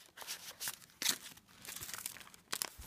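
A coffee-dyed paper envelope being handled, giving soft intermittent crinkles and rustles in short bursts, close and quiet, with no talking.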